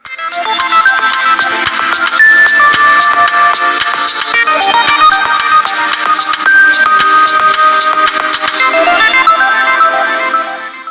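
LYF smartphone ringtone plays a bright, busy electronic melody with quick repeating notes, loud and continuous for about eleven seconds with no talking.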